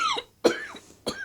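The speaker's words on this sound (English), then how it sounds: "A little coughing fit here." Three sharp, hoarse coughs in quick succession from one nearby person, each a short harsh burst with brief pauses between.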